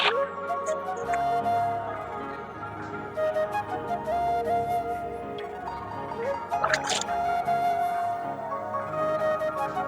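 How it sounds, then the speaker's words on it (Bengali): Chopped ash gourd and pointed gourd are washed by hand in water, giving wet sloshing, squishing and dripping sounds that continue under a steady tonal background. "এখন আমরা এগুলোকে সুন্দর করে ধুয়ে নেব"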